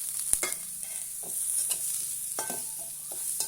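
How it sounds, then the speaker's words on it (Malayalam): Ginger, garlic and green chillies sauté in a pan with a soft, steady sizzle, broken by several sharp spatula scrapes and clinks as they are stirred, with no voices. "നന്നായിട്ടൊന്ന് വഴറ്റി കൊടുക്കാം."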